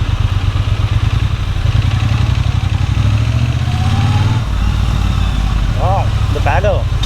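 Triumph Bonneville T120 motorcycle fitted with a Motone X-Pipe and V&H exhausts, a loud close throbbing engine note rolling along steadily, with faint chirps near the end.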